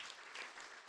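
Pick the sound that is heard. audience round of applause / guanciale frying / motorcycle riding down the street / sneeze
audience round of applause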